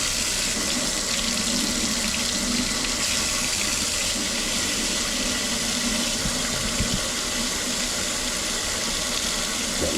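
Hot water gushes from a kitchen tap in a city apartment, a steady loud rushing hiss that stays constant and close throughout with no talking.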